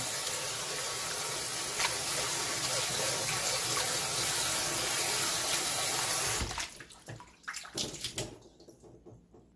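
Taro stems being rinsed under a steady, loud gush of running tap water, which stops near the end and leaves a few splashes and handling noises.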